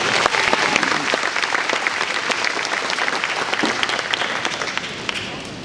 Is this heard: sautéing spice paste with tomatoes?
no